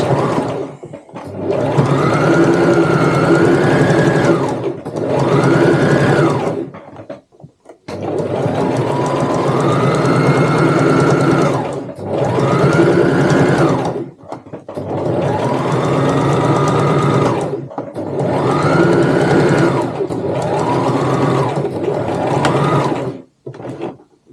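Domestic sewing machine stitching and backstitching a seam on a tote bag, running in four or five steady whirring bursts with short pauses between, each rising in pitch as it speeds up, close and loud.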